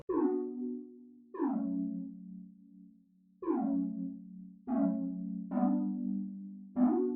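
Six sustained electric piano chords from a synth preset, played one after another with gaps between, each with a bright attack fading into a warm, steady tone; dry and close, no effects.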